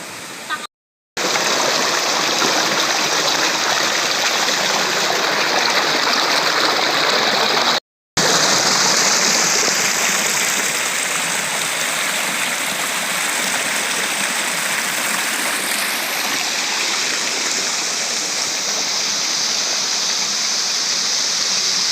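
Water pours steadily from a pipe inside a dark, cold spring, a loud continuous rushing gush broken by two brief cuts, with no talking over it.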